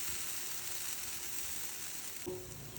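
A protein dosa cooks on a pan over a slow flame with a soft, even sizzle throughout and a faint scrape near the end.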